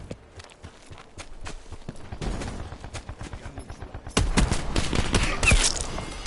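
Shotgun gunfire in a video game: two loud, sharp blasts land late, over a busy run of quick clattering steps and smaller pops.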